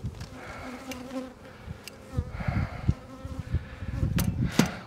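Honeybees buzz in a dense, steady drone around a hive box as the colony moves up to a larger box. The swarm sounds close and fills the whole stretch without a break, and nobody speaks.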